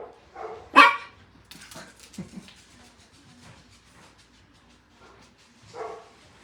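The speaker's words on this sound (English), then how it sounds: "Sorry, puppies don't bark." A puppy gives a few sharp, yappy barks, one loud and near at the start and another later, mixed with brief scattered voices and quiet pauses.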